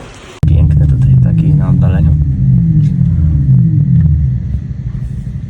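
A Xiaomi SU7 Ultra's deep, loud rumble starts abruptly and holds steady, droning close by before easing slightly at the end.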